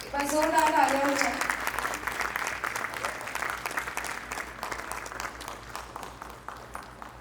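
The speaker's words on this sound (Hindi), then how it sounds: "जोरदार तालियां हो जाए।" An audience applauds loudly at a stage performance of the play Khamosh Adalat Jari Hai. A voice opens the moment, then a dense, sustained wash of clapping fills the hall and slowly eases off.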